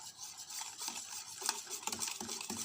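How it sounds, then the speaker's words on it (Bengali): Cake batter with milk being beaten hard in a bowl, a fast continuous wet whisking and scraping with rhythmic utensil knocks, close and fairly loud, with no one talking. "দুধ দেওয়ার পরে ব্যাটারটাকে খুব ভালো করে এখন ফেটাতে হবে।"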